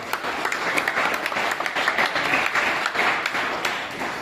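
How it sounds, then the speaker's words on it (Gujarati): An audience at a school quiz competition applauds in a sustained, even round of many hands clapping, with individual claps faintly popping out of the dense wash throughout. "ખૂબ સરસ, જોરદાર તાળીઓ પાડી દઈએ આપણે."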